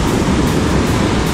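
Surf waves rolling onto a beach in northern Japan during a fishing trip, a loud, continuous washing roar of broken water close by, with no talking.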